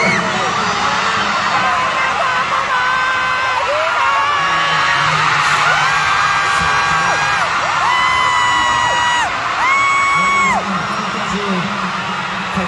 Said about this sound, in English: you greet us with this warm cheers and applause